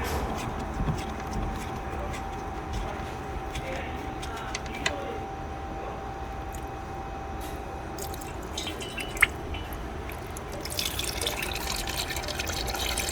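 Hot engine oil drains from a 2014 Infiniti Q50 into a pan as a faint, steady liquid trickle and drip with a low background hum, and a few light clanks break in now and then.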